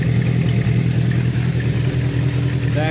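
A 1973 Honda CB500 motorcycle engine idles in first gear with the clutch pulled in, a steady, close, low rumble with light mechanical clatter and no revving.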